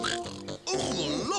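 A voice imitates a pig oinking in a children's show, with a series of nasal snorting oinks mixed with playful vocal sounds over lively background music.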